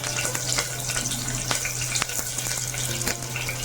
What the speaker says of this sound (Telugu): ఆయిల్ హీట్ ఎక్కింది కదా ఇప్పుడు మనం బిర్యానీ ఆకు వేసుకోవాలి పచ్చిమిర్చి